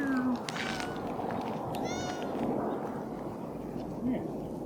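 A street cat meows several times in short rising calls, close by, over steady outdoor background noise, while a person talks softly nearby.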